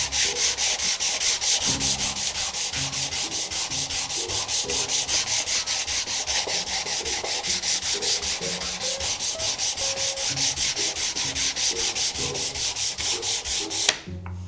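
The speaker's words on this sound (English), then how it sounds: "Maybe I'll just use the 240 grit also to make it even smoother." Rhythmic back-and-forth rubbing of 240 grit sandpaper on a wooden nameplate, close and loud, a quick steady scratching stroke pattern that runs continuously then stops abruptly near the end, with no talking.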